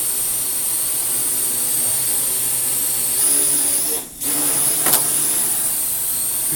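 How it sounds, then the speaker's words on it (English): Parrot AR.Drone quadcopter flying near a hobby shop, its motors giving a steady high-pitched whine with a broad rushing hiss that briefly dips and swells again. "The AR.Drone."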